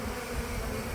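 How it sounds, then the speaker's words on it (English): Honeybees buzzing around a trap cone on a huge oak tree, a dense continuous hum close by. "there'll be a lot of bees piling out of that trap."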